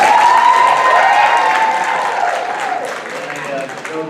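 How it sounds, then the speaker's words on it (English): An audience applauds at a town candidates debate for Riverhead supervisor, a steady, loud clapping from a crowd that slowly fades over about four seconds. "We could hold our applause to a minimum."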